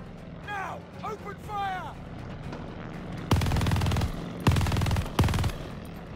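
Turret machine gun fire in Call of Duty: Vanguard, set in Tobruk, comes as three loud sustained bursts, each about a second long, after a quieter opening of whistling game effects and background rumble.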